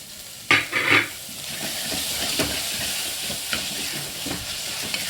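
Tomatoes sizzle steadily in a hot frying pan with a couple of stirring scrapes near the start, a continuous frying hiss throughout.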